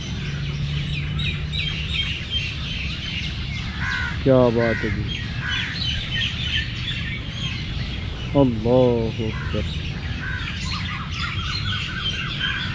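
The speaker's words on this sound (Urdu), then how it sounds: "اور اس طرح پھر آ کے چہچہاتے ہیں، حمد و ثنا کرتے ہیں، گیت گاتے ہیں" Morning birdsong with crows cawing and small birds chirping and twittering throughout, two louder harsh calls standing out near the listener, while someone speaks briefly over the chorus.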